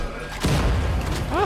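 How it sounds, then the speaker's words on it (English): A muffled boom thumps once in the Wolfenstein: The New Order shooter, a short low burst with rumble trailing after it, and a brief voice sound comes at the very end. "Ah, the explosion."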